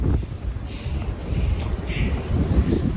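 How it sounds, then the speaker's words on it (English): Strong gusts buffet the microphone on a steep Appalachian Trail mountain climb, a continuous low rumbling roar with uneven surges throughout, loud and close. "the wind is crazy"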